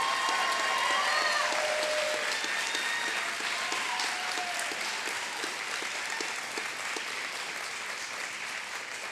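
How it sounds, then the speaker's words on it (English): Audience applause at a middle-high school grand opening ceremony, a dense, sustained clapping that slowly fades, with a few brief whistles or cheers at the start and some clearer individual claps. "give Kelby a round of applause"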